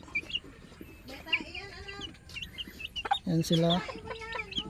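Young Sweater Kelso chicks cluck and peep close by in a lively burst of short calls. Someone speaks over them.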